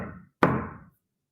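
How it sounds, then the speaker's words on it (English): A single firm knock on a door, solid and close, following a softer muffled thud, then silence. "I knock on the door."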